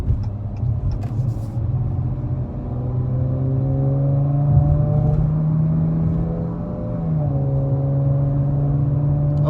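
A 2021 Dodge Challenger V6 fitted with a Borla ATAK cat-back exhaust accelerates onto a freeway. Its loud, steady engine drone rises in pitch, briefly dips at a gear change, then climbs again as it cruises.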